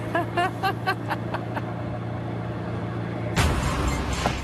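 A 1960s collector car on the road, its engine rumbling steadily under some chirping at the start, then a sudden rush of broadband road and wind noise as it moves on.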